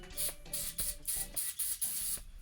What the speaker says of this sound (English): Get our carb cleaner out.